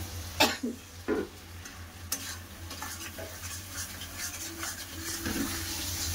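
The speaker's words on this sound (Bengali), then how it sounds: "মশলা সাথে আলুগুলো ভালো করে কষে নিয়েছি" Fried potatoes being stirred and sautéed with spice masala in oil in a pan, a few scraping stir strokes and clinks over a steady low sizzle, close and fairly quiet, no talk.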